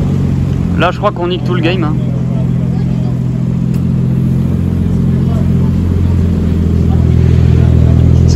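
A Porsche GT3 RS engine revs on a street in Monaco, a loud, steady engine drone with a couple of brief throttle blips near the start, while someone talks over it.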